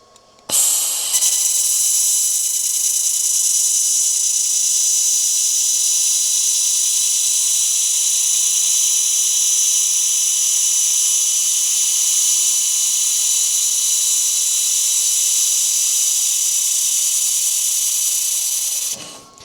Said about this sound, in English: Right, let's go for full weld.